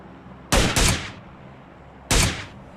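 Tap fire from an SLR rifle in an online shooter match, three sharp, fairly close single shots, two in quick succession and then a third after a pause of over a second, each with a short echoing tail, no voices.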